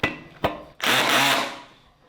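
A power drill drives screws into a simple beginner wooden bench, giving a short click and then one whirring burst that tails off, close by and with no talk.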